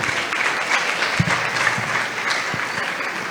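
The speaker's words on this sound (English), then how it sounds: "clap for them please" An audience at a book unveiling and review event clapping for performers, continuous dense applause with a few sharper individual claps standing out nearby.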